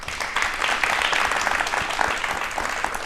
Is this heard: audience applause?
yes